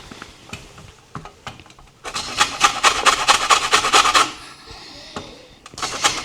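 A lemon is grated against a zester for mandazi dough, giving a few light scrapes and then a run of quick, close rasping strokes, one last short burst following a pause.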